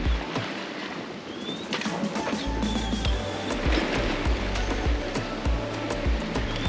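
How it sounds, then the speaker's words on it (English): A sailboat glides across the Atlantic under sail alone with no engine, water washing and lapping steadily against the hull close by, with soft creaks and knocks over the continuous rush. "we are now sailing for real. No engine."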